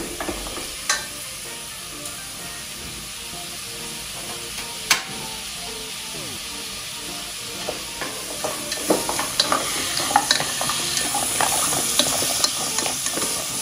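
Meat is stir-fried in a hot pan at home, a steady sizzle punctuated by scraping and clattering strokes of the stirring utensil, growing busier toward the end with no voices.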